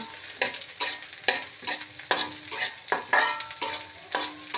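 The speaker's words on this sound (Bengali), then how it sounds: "পেঁয়াজগুলো দিয়ে আমি হচ্ছে সুন্দরভাবে আস্তে আস্তে একদম অল্প আঁচে নাড়তে থাকবো" Onions stirred and fried on low heat in a pan for a mashed taro bhorta, a steady sizzle broken by regular scraping stirs about every half second, close and clear with no talk.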